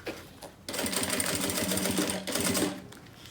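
Electric sewing machine stitching along the side of a fabric bag, a rapid even mechanical whir that starts abruptly, runs for a couple of seconds, pauses briefly and resumes, close and alone.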